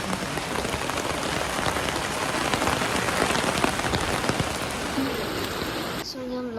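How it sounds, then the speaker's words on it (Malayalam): Heavy rain pouring down onto surfaces in a steady, dense, close hiss, with a brief voice near the end. "നല്ല മഴ ടു ബി ഓണസ്റ്റ്"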